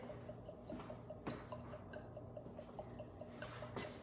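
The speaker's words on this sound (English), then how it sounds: "So we'll let that liquid drain out" Liquid from a freshly opened coconut drains and drips into a bowl, a faint, quiet patter of small irregular drops with occasional sharper ticks.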